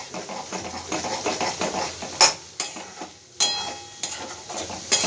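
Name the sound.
frying spice paste with Kashmiri chili powder and salt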